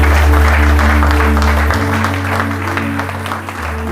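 A church congregation applauding loudly and close by, with steady clapping over a low hum that thins out toward the end.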